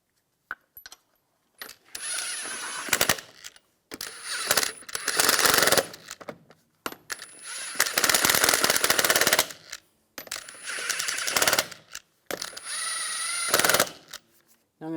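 Lug nuts being fastened onto the wheel hub of a 2004–2009 Toyota Prius: repeated loud bursts of a power tool, each lasting one to two seconds, separated by short pauses, close by.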